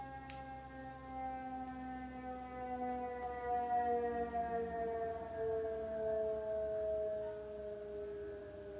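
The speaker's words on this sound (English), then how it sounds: "there's like an ambulance or something" An ambulance siren wailing at a distance, its long gliding tones slowly falling and rising over several seconds with a faint background hum, no voices.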